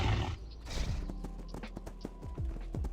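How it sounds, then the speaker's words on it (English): A horse mount in an FFXIV or WoW video game whinnies and then clops along with steady, regular hoofbeats, close and clear over a busy game soundscape. "I have a horse."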